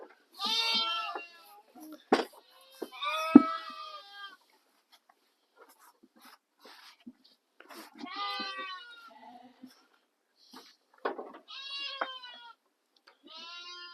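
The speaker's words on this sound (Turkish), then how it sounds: "Bir dün doğan kuzumuz." A newborn Awassi lamb, born the day before, bleats several times with high, wavering calls close by. Quiet gaps and some talk come between the calls.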